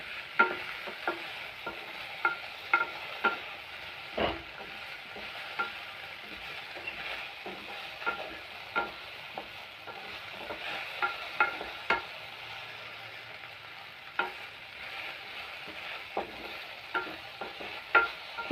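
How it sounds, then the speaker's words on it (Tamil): Okra sautéing in a pan for vendakka puli kuzhambu, a soft continuous sizzle broken by repeated scraping stirs at an uneven rhythm, close up with no voices. "நாம் ஓரளவுக்கு வதக்குனா போதும். ரொம்ப வதங்கிருக்கணுங்கிற அவசியம் இல்லை"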